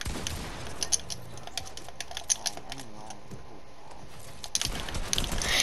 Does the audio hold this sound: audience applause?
no